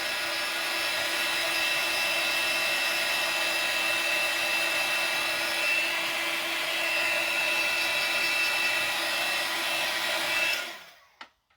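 A handheld hair dryer blows on a winter-themed coffee mug craft, making a steady, close, continuous whirring drone for about ten seconds before it switches off.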